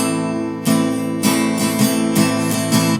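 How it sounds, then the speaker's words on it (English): An acoustic guitar strummed in a down, down, up, up, down, down, down, up pattern on one chord: a steady run of bright, close strokes, played alone. "down, down, down, up, which sounds like this."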